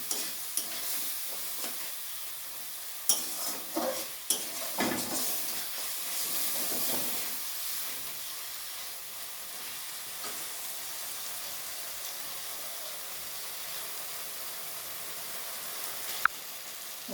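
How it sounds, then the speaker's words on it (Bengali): Spice paste, loosened with a little water from rinsing the spice bowl, fries in a pan for a fish curry with taro, giving a continuous hissing sizzle with occasional scrapes and taps from stirring. "দিয়ে আমি খুব ভালো করে এটা কষিয়ে নেবো"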